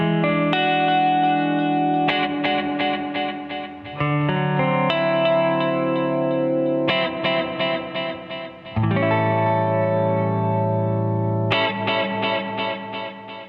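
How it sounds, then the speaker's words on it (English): Electric guitar through a Catalinbread Soft Focus pedal set for a simple delay-line echo, loud strummed chords and picked notes whose repeats smear and trail into washy reverb-like tails, with no talking. "That's a simple delay line type delay effect."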